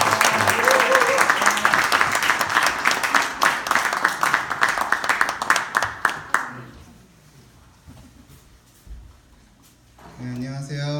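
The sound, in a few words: audience applause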